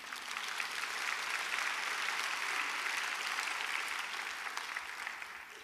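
Applause from a church congregation at a Korean revival meeting, a dense, steady wash of many hands clapping at an even level for several seconds, then easing off slightly at the end.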